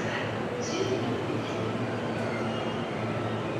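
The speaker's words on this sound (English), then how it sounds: "sounds like the Keihin Tohoku line is about to leave." A JR Keihin Tohoku line train pulls out of Ueno Station, a steady loud rumble of rail cars close by with faint high squeals over it, station ambience throughout.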